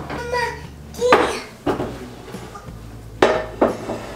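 Metal baking pans and trays are pulled from a preheated oven, giving a handful of close, sharp clanks and scrapes spaced irregularly, with quieter shuffling between them.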